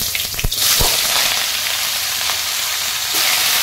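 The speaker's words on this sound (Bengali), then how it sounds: "একটা তেজপাতা, দুটো শুকনো লঙ্কা, একটু কালো জিরা, এর মধ্যে ঝিঙেগুলো দিয়ে দিই।" Ridge gourd slices go into hot mustard oil already holding a bay leaf, two dried red chillies and black cumin, setting off a loud, steady sizzle of frying that carries on close up, with no voices.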